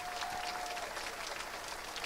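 A crowd at an elementary school fifth grade celebration gives a round of applause, a fairly faint, continuous patter of many hands from across the room, with a thin tone running briefly through the first part.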